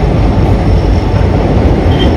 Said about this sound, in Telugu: ట్రైన్ వస్తుంది, నేను చూడలేదు ఈ ట్రైన్ వచ్చేది